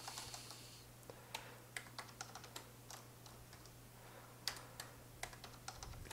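Typing on an English-layout computer keyboard, a quiet series of irregular key clicks over a steady low electrical hum, with a brief burst of faster keystrokes near the start.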